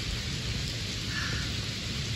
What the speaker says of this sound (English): Look, everyone, there's rain pouring down.